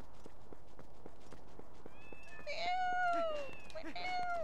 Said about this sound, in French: Plein de chats, c'est mignon.